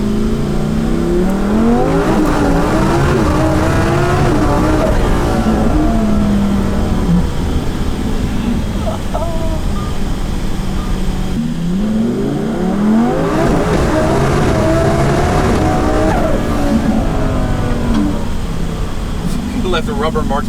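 A Lamborghini Huracan Alpha 16 prototype revs hard and accelerates through rising and falling engine pitches, loud and continuous, passing close with a faint tire squeal while people talk over it.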